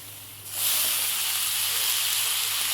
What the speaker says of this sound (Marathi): आता ह्याच्यामध्ये आपल्याला भाजी घालून घ्यायची